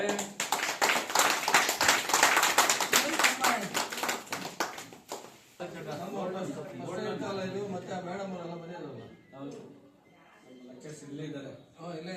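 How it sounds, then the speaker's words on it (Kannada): A crowd applauds at a rural community function in Kaveri Halli village near KGF, with dense, lively clapping for about five seconds before it fades and voices take over. "ಒಳ್ಳೆ ಚಪ್ಪಾಳೆ"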